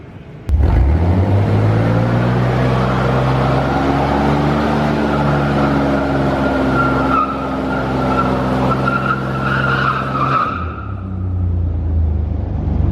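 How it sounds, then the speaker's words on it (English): A Chevrolet Blazer does a tire burnout, its engine held at a loud, steady rev while the tires squeal continuously for about ten seconds before the throttle drops off. "I'm gonna do a test burnout before Zach gets here"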